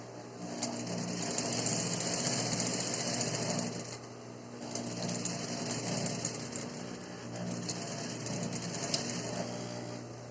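A sewing machine stitching the seam of an elasticated fitted sheet, a steady close mechanical whir and rapid needle clatter running in two long bursts with a brief pause between.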